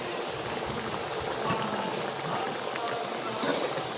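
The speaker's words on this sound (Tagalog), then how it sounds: "Kumulo na." Ginataang bilo-bilo, sticky rice balls in coconut milk, bubbling in a pot over a strong flame: a steady, close hiss of simmering liquid with soft popping, and a voice talking over it.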